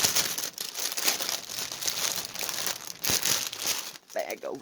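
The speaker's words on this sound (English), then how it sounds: "let me get this out of the bag" Plastic bag crinkling and rustling close by, steady crackly rustle for several seconds as an item is pulled out, ending in a brief voice.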